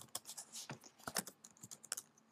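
A computer keyboard is typed on while entering a terminal command, giving a short burst of quick, close key clicks in an irregular rhythm. No one speaks.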